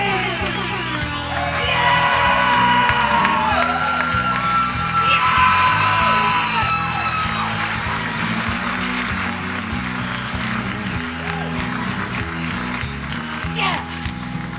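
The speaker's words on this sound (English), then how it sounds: "Wow, what a crowd! Listen to them, Ken, they're still going." Live country music show audience cheering, whooping and yelling loudly and continuously, a full crowd roar with shouts rising over it and a voice speaking through it near the end.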